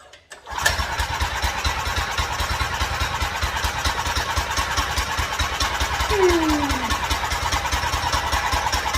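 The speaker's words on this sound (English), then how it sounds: "Second pull, she's running, boys." A Harbor Freight 212 Ghost small gas engine catches on the second pull and settles into a fast, steady putter at close range, with a brief whistling squeak near the end.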